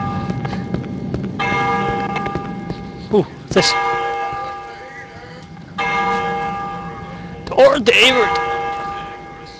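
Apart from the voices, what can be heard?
bell ringing in video game Cry of Fear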